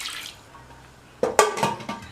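Water splashes into a pressure cooker holding washed roasted moong dal, a short burst of sloshing and pouring with a couple of quick splashes after a near-silent start.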